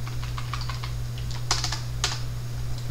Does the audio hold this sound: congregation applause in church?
no